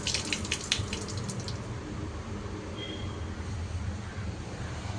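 A drinking-water filter tap in a park runs with a steady, close rushing flow that fills the whole clip, with a few brief higher splashy bursts in the first second and a faint tone partway through.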